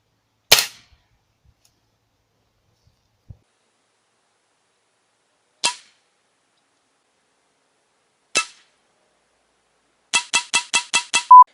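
A 19.9-joule air rifle fires lead pellets through a piece of slate from about 10 to 15 metres. Three sharp, isolated cracks are spaced seconds apart in near silence, followed by a quick run of similar snaps.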